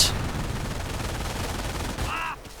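Dense, rapid gunfire crackling at a sniper in a strategy video game, a continuous loud burst of overlapping shots ending with a brief metallic ring.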